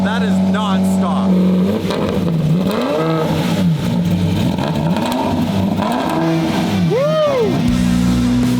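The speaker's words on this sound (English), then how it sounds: "Okay, Gentlemen, start your engines. start it. Cold start." A Lamborghini V12 engine cold-starts and revs hard, its loud note rising and falling in repeated throttle blips, with people talking and cheering nearby.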